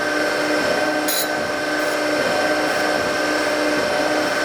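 A grinding wheel flattens the corners of a toolmaker square in a steady, loud, continuous grind that holds an even whine from start to finish, with a brief sharper scrape early on.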